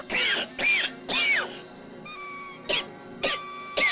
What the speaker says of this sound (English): Cough, hack, wheeze.